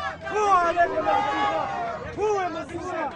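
An angry crowd at a pro-Israeli street demonstration, with many voices shouting and yelling over one another in a dense, close babble that rises and falls throughout.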